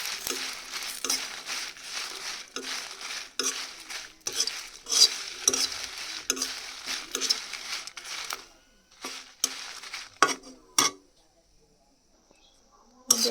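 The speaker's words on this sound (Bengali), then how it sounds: "যে মরিচ মোটামুটি শুকনো হয়ে আছে, তারপরে এটাকে আমরা একটু ভেজে নেব" Dried red chillies frying and being stirred in a wok, giving repeated scraping stir strokes over a soft sizzle, close and fairly loud, with a quiet gap near the end and a little speech in the background.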